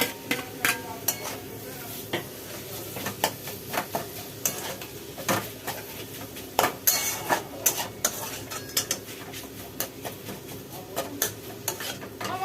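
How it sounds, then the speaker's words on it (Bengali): Chicken pieces stirred with spices in a pan, a soft sizzle under repeated sharp scrapes and clinks of a spoon against the metal, steady and close. "চিকেনগুলোকে দিয়ে একটুখানি নাড়াচাড়া করে দিই"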